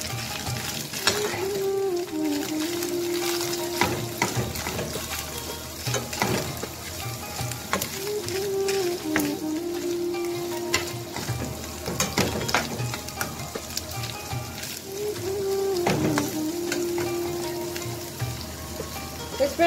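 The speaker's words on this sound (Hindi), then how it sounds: "1 टीस्पून हमने इसमें ब्लैक पेपर ऐड की। इसको हम थोड़ा सा सौते करेंगे।" Chicken seasoned with salt and black pepper sautés in a pan with a steady, close sizzle, and a stirring scrape sweeps through the pan roughly every seven seconds.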